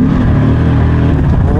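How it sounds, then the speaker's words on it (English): A 560bhp BMW fitted with a Mercedes engine pulls hard on boost, a loud, dense engine roar heard close up from inside the car, steady and continuous throughout the short burst. "Whoa, that is a monster on boost."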